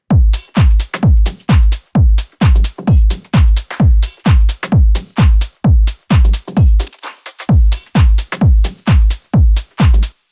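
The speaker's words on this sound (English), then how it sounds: "Kind of like a bongo tribal-esque loop." A glitchy, heavily processed bongo-style tribal percussion loop in a minimal deep tech mix hits loud, punchy drum strikes in a steady, swung pulse about twice a second, with a brief stuttered break near the middle.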